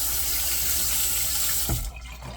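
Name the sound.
tap water running to wet face before shaving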